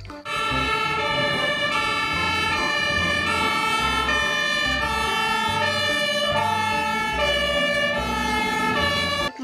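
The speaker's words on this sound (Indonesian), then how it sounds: "Pemadam kebakaran." A toy fire truck siren plays loud and close for about nine seconds without a break, a steady electronic wail with a repeating pulsing pattern underneath.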